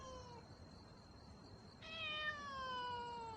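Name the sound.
cat meowing inside a house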